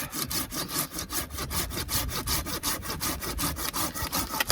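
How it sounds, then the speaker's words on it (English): A Silky folding hand saw cuts tree branches while firewood is gathered outdoors, with fast, steady rhythmic push-pull strokes rasping through the wood, close and clear with no talking. "This silky saw is Frickin' great."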